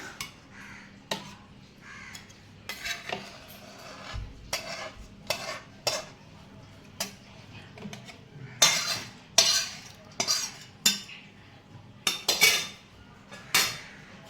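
Lote fish masala scraped and poured from a pan into a container: a series of sharp metallic clanks and spoon scrapes at an irregular rhythm over a quiet background, with a crow cawing faintly in the distance.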